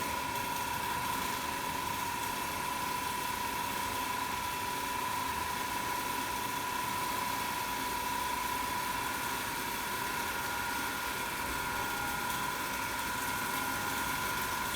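An electric machine runs at a constant speed of about 1500 rpm during a Swinburne's test in a lab, producing a steady whine with a hum beneath it that holds even and unchanging throughout.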